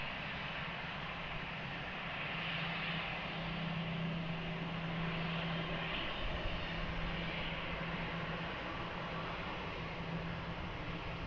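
A plane on approach to runway 20 at Lisbon Airport gives a steady, distant engine roar that swells a little midway, a broad continuous drone heard alone over several seconds.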